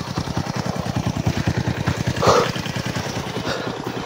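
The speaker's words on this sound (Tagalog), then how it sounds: "So, ito yung motor ko." A motorcycle engine idles close by with a steady, rapid low thumping pulse that swells briefly midway before settling back to an even rhythm.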